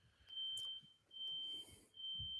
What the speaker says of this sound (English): Fire alarm upstairs.